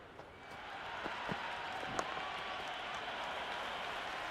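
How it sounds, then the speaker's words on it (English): A steady stadium crowd buzz in the cricket video game Cricket 26, a broad continuous roar of spectators from the stands with a few brief sharper bursts, no commentary voice over it. "There's a buzz, a real buzz coming from the stands."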